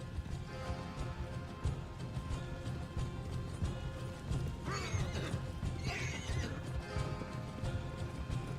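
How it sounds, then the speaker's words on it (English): A horse in the video game Red Dead Redemption 2 whinnies loudly twice in quick succession mid-clip, set against ongoing hoofbeats and busy game ambience. "Get on the goddamn horse, Arthur!"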